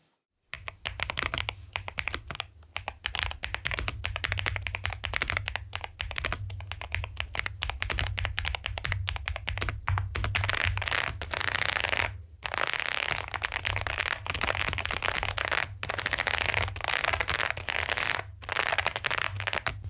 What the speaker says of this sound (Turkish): bu klavyenin bizlere sunmuş olduğu mekanik ses deneyimini yakından bakalım